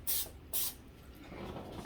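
Cooking spray misted lightly onto muffin tins for taco shells: two short bursts of aerosol hiss, each about a quarter second, close and fairly quiet, then low kitchen handling noise with a small clink at the end.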